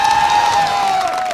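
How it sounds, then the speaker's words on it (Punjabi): A college audience at the Doon Group of Institutes in Karnal applauds and cheers loudly during a talk show, the dense crowd noise steady throughout with a sustained whistle-like tone running on top. "ਜ਼ੋਰਦਾਰ ਤਾੜੀਆਂ ਬਾਈ ਆਪਣੇ ਲਈ।"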